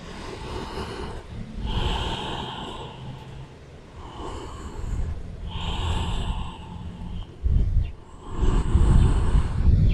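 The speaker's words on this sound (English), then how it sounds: "taking deep breaths." Deep, slow breathing during a yoga forward fold in a back flexibility routine, several loud drawn-out breaths with a heavy exhale near the end, close and alone.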